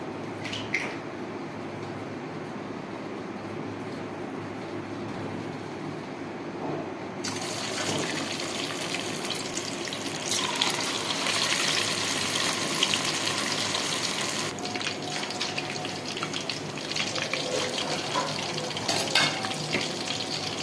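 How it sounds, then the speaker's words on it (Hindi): Seekh kebabs on skewers frying in hot oil in a pan, a steady close sizzle and bubbling that grows louder and denser partway through, with no talking. "अब हम अपने कबाब फ्राई करेंगे।"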